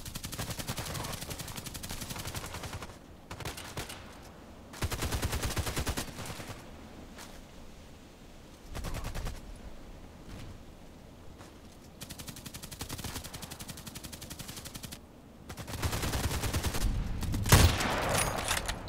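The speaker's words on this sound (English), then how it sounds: "Don't tell me he's shooting at me already." Bursts of automatic gunfire ring out in Contract Wars on the Old Sawmill map, repeated volleys of rapid shots spread over the stretch with short pauses between them, fairly loud and steady.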